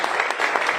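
Audience at a business event applauding, a brief burst of dense clapping at fairly close range, with no speech over it.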